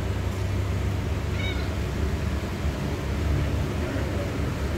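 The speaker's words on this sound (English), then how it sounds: "We have 2 cats here" Shelter cats in a cage at a no-kill humane society give a brief, faint meow or two, nearly buried in a constant roar of loud background noise.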